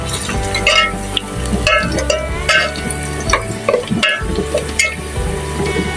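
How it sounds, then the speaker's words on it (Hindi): Curry leaves and whole cumin seeds frying in hot oil for a lauki chana dal, giving a loud, close, continuous sizzle and crackle with stirring scrapes and occasional clinks of a utensil against the pan. "साथ ही इसमें कड़ी पत्ता ऐड करेंगे, 4 से 5 अदद।"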